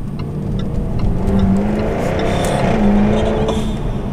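A Jaguar F-Type R engine pulls steadily while driving at part throttle, a loud continuous low growl with rising and falling pitch sweeps as it revs through gears, heard from inside the car.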